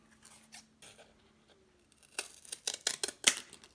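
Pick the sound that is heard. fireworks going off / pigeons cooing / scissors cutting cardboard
scissors cutting cardboard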